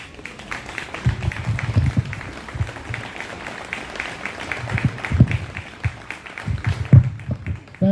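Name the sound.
audience applause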